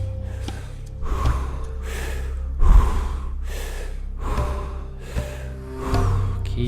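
Deep, loud rhythmic breathing during a transformational breathwork session, with repeated forceful inhales and exhales, roughly one cycle per second, close and continuous.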